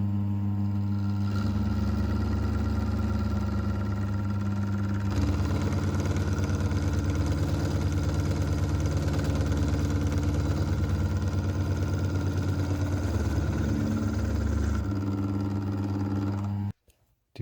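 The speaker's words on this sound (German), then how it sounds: "Dann wird der nötige Freiraum für die Rückstellfeder von der Kupplung ausgefräst." A milling machine cuts clearance for a Märklin coupling return spring on a model locomotive. A loud, steady motor drone with a constant hum runs for most of the span, the cutting tone shifts midway, and everything stops abruptly at the end.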